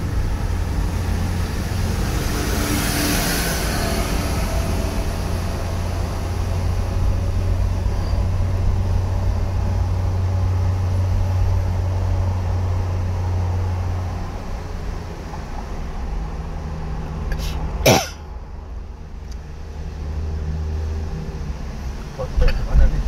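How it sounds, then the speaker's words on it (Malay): A cable car ride at Genting Highlands, a steady low mechanical hum and rumble inside the cabin with faint creaks and a sharp clunk near the end, under quiet talk. "Kereta kabel ya tuan-puan, kereta kabel."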